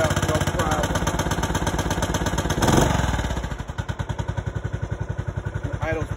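A 1990 John Deere RX75 mower with a 9 hp Kawasaki single-cylinder engine runs after a cold start in freezing, snowy weather with the choke on, chugging loudly and rhythmically close by, its beat slowing as it settles toward idle, with a brief voice near the start.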